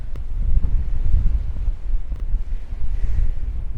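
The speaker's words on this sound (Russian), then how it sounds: "Ого, какое ветрище!" Strong wind blows across the ancient hilltop city of Gamla, buffeting the microphone in heavy, rumbling gusts that rise and fall continuously without any speech.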